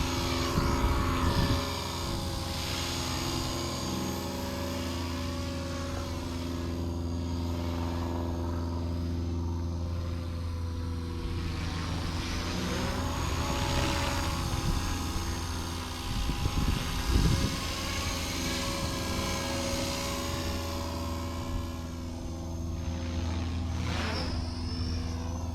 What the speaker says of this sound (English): What a great little helicopter.